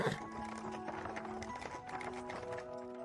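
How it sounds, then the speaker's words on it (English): Horse hooves clip-clop in a video game, a quick run of rhythmic hoofbeats with steady tones sounding underneath. "Horse noises? We have horses? Feral horses?"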